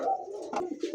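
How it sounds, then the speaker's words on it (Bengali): An almond-coloured Australian dove sitting in a clay pot gives a soft, close, throaty coo lasting about a second, a few rolling low notes with faint background noise. "অ্যালমন্ড কালার অস্ট্রেলিয়ান ঘুঘু, এই যে হাড়িতে বসা আছে"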